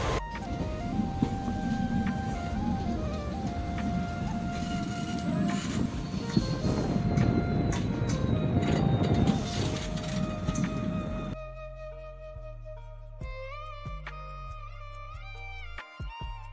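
A train at a railway station rumbles steadily with tonal whines and a horn-like drone, then the scene quiets to a lower mechanical hum with clanks toward the end.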